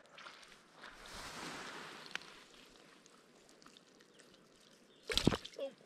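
A caught fish splashes in the water of a small mountain lake, a short burst of loud, close splashing near the end after quieter rustling and faint water movement.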